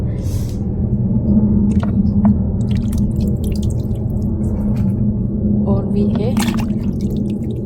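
Water dripping and trickling from fermented bamboo shoots as they are squeezed out by hand for pickle, a steady wet patter under a low rumble with a person talking over it.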